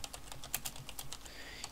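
Steady rapid clicking of a computer keyboard as C++ code is typed, close and fairly loud, an even run of keystrokes with no talking.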